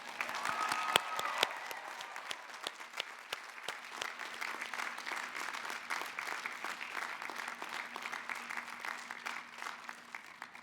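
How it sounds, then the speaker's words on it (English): Sustained applause from a large audience at a university graduate diploma ceremony, even and continuous clapping that fills the whole stretch without a break. "welcoming the members of your friends and family with a round of applause"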